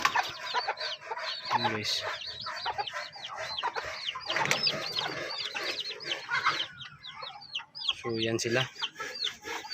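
Brahma chickens with heavily feathered feet cluck and chatter continuously nearby, a busy mix of short calls and squawks, while someone talks quietly over them in Filipino.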